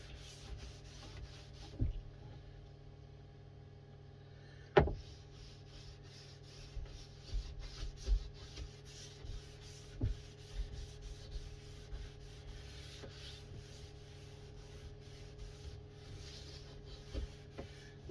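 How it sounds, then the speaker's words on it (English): A cloth buffs Danish oil into pallet wood on a third coat, a soft continuous rubbing and scuffing with small uneven bumps and one sharper knock, quiet and close. "you just really buff it up and it comes up to a nice finish"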